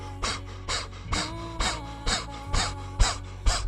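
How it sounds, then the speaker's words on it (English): Eight rhythmic breaths panted through a puckered O-shaped mouth, sharp airy bursts spaced roughly half a second apart, close and clear, with no talking. "This breath is like you're panting, but your tongue's not out."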